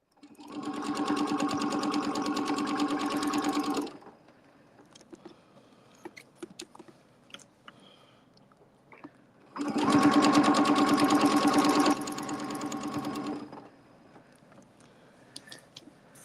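A sewing machine stitches a heart shape for a Valentine's Day project, running in two steady bursts of about four seconds each with a quiet gap of light handling sounds between them.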